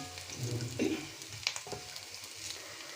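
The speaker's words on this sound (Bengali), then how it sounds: "কারি কুকারে পেঁয়াজ দিয়ে দিয়েছি পেঁয়াজ অলমোস্ট গোল্ডেন ব্রাউন করে ভাজা হয়ে গিয়েছে" Onions frying to golden brown in a curry cooker, a home beef curry in progress, give a steady close sizzle with a few brief stir clatters and no talking.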